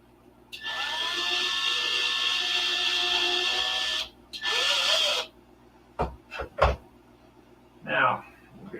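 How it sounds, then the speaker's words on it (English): Hand drill boring into wood held against a bench: a long steady whirring run, a pause, then a shorter burst, followed by a few knocks and brief handling noises, close up. "Try to hold the drill perpendicular to the bench."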